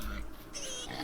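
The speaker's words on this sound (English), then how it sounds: "No, it's a pig." A pig grunts in the Vintage Story video game, a short, low snuffling sound heard against busy game background noise.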